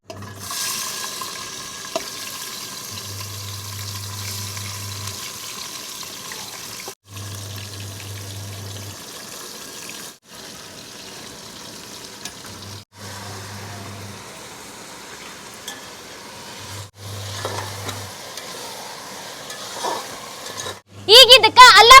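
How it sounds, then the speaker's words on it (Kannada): Chopped vegetables fry in hot oil for a pulao, giving a steady, even hiss throughout with a low hum that rises and falls beneath it. "ಫಸ್ಟ್ ಎಣ್ಣೆ ಹಾಕೊಂಡಿದ್ಮೇಲೆ ಈಗ ಕಟ್ ಮಾಡಿದ್ದ ಇಷ್ಟು ತರಕಾರಿ ಹಾಕೊಳ್ಳೋದ್ರಿ"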